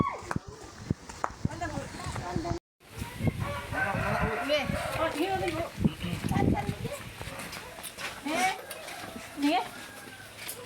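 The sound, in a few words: goats, sacrificial livestock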